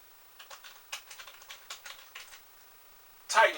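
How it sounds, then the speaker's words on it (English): Keys on a computer keyboard are tapped in a quick, light burst of clicks at moderate distance, followed by a short louder noise at the end; no one speaks. "Type in Kofi Kingston"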